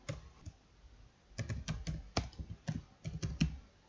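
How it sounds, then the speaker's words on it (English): Keys on a computer keyboard clatter in quick irregular bursts while code is entered for an Excel macro, close and fairly quiet, with short pauses between clusters of strokes. "In here we need to type application."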